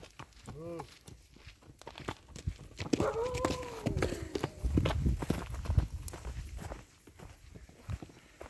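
Hobbled working horses walk on a farm in Zakarpattia, hooves clip-clopping irregularly at close range, with a whinny-like call early on and scattered thumps and shuffling throughout.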